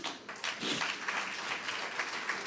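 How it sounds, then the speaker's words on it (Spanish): Applause from a crowd, steady and somewhat distant, with many hands clapping together for a couple of seconds. "dale un aplauso a María,"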